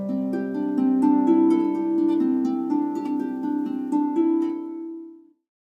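Harp notes plucked in a flowing pattern, low bass notes stepping upward beneath rippling upper strings, ringing clearly and fading out at the end.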